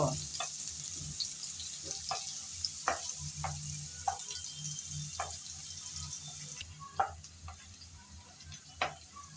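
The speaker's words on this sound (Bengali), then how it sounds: "সে গরম তেলে দিয়ে দিলাম কিছুটা পরিমাণ পেঁয়াজ কুচি। নেড়ে চেড়ে পেঁয়াজ কুচি হালকা ব্রাউন কালার করে ভেজে নেব।" Chopped onions sizzle steadily in hot oil for a spiced hilsa curry, with a continuous frying hiss broken by occasional sharp clicks and scrapes from stirring, close and clear with no talking.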